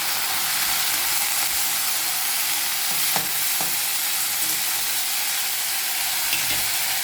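Greens and potato stir-frying in a pan, a steady close sizzle with faint scraping stirs and a couple of brief clicks midway, no talking.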